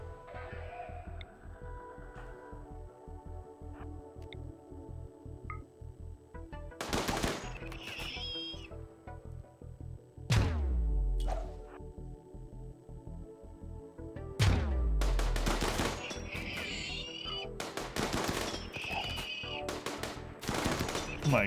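A shooting specialist opens fire in a video game battle: scattered quiet shots, then several loud bursts of rapid gunfire and heavy booming impacts that grow denser toward the end.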